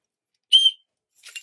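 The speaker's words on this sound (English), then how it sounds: "it's quite a high-pitched whistle." A small shrill whistle from a car boot sale haul is blown: one sharp, piercing blast, then a shorter, fainter, breathier toot after a pause, with no other sound.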